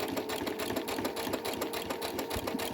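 A Brother CS-100 computerized sewing machine stitches at a steady pace, giving a close, continuous rapid whir and mechanical clatter with no voices.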